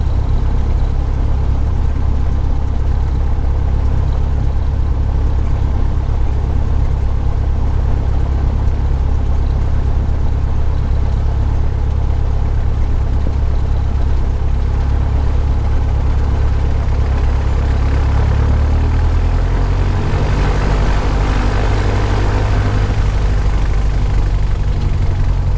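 Cessna 337 twin-engine aircraft doing an engine run-up short of runway 26L, a loud continuous engine drone that swells in power near the end, with no talking.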